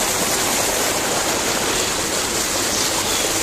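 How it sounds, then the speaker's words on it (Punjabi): Water pours from a motor pump into a paddy field, a constant loud rushing gush with no pauses or voices, heard up close. "ਮੋਟਰ ਵੇਖੋ ਬਿਲਕੁਲ ਥੋੜ੍ਹਾ ਥੋੜ੍ਹਾ ਪਾਣੀ ਕੱਢਦੀ ਹੈ ਵੀ।"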